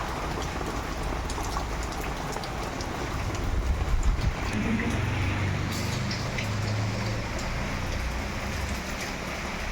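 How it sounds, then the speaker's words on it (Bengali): Heavy rain from a Kalbaisakhi storm pours down steadily on surfaces close by, a dense drumming patter with gusts of wind swelling midway, with no talk. "বাপরে কি ঝড় হচ্ছে, এত ঝড়ের তো থামছেই না, ঝড়ের থামার নামই নিচ্ছে না। বৃষ্টি তো হয়েই যাচ্ছে।"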